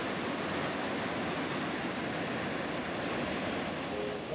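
Ocean surf on a beach in Cape Town, South Africa, a steady broadband wash of waves with wind, moderately faint and continuous throughout, with no voices.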